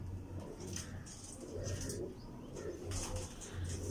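Pigeons coo softly in low, repeated rolling calls, with a faint background hum and occasional higher chirps.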